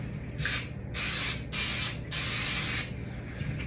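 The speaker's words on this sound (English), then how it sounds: "So spray the pans down really good." Four bursts of aerosol cooking spray hiss onto bread loaf pans in quick succession, steady and close, with short pauses between them.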